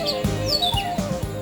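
Small birds chirp over a rice field, with a few short high tweets and calls scattered across the moment against low background noise.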